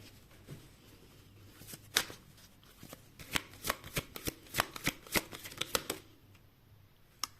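A deck of tarot cards being shuffled during a reading, with a run of crisp, close riffling snaps and flicks that starts sparse and grows busier toward the end, with no talking.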